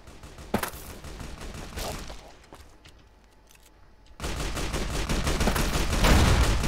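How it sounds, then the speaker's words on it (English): Rapid bursts of gunfire from Veronica, a companion in Fallout: New Vegas, crackle through a dense, noisy battle, easing into a quieter lull midway before heavy continuous firing surges back louder near the end. "where's Veronica and what is she shooting at?"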